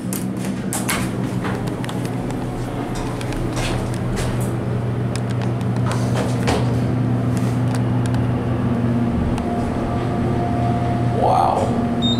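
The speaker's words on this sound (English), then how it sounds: "Let's take it to 2 and listen to the motor." A U.S. hydraulic elevator motor runs with a constant loud droning hum through the entire ride in a building in Goldsboro, North Carolina.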